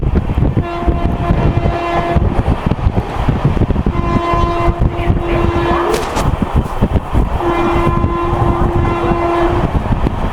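The Shahid Express, a new LHB passenger train from Howrah to Rampurhat, runs at speed with loud continuous wheel rumble and clatter, punctuated by three long sustained horn blasts.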